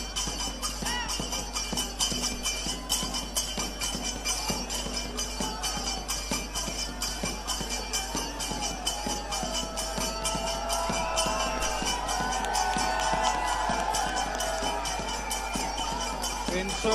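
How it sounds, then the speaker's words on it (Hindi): A crowd at an outdoor JJP political rally in Hisar claps and cheers to welcome Dushyant Chautala, with dense, continuous applause under a low hum and rising cheers toward the end. "एक बार जोरदार तालियां बजा करके भाई दुष्यंत सिंह चौटाला जी का स्वागत"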